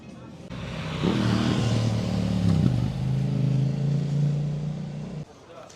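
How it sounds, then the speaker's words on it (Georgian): Motorcycle engines rumble and rev steadily nearby in a quiet city street, one passing through with a low droning tone that rises and settles. "მარტო მოტოციკლების ხმა ისმის."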